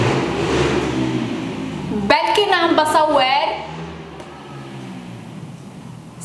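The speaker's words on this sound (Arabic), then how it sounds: "سيارات مزعجة." Noisy cars pass outside, a broad engine rumble that swells into a revving, rising whine before fading back to a low drone, with a person talking over it.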